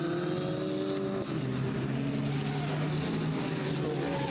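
A close pack of six or seven race cars battles on the final lap at Summit Point Raceway, engines roaring loudly and continuously as they climb out of a turn, with pitch shifting as cars pass.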